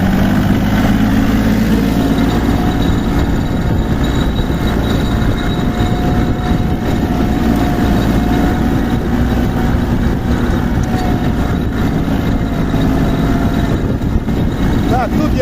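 Tractor engine pulling uphill in second gear while sowing wheat on a small plot, a steady, loud, low drone holding throughout with a continuous rumbling texture and a voice talking over it.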